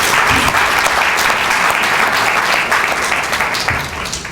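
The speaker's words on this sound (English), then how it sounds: "Let's give them another round of applause." Audience at a panel discussion on the evolution of the family applauds the speakers, dense steady clapping from a crowd that gradually thins toward the end, with no talking over it.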